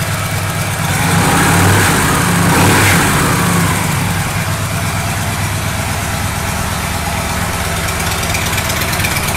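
A 2014 Victory Hammer 8-Ball motorcycle with an aftermarket Cobra 2-into-1 exhaust idles steadily and close by, a deep continuous rumble that swells briefly as if blipped, then settles back to an even idle.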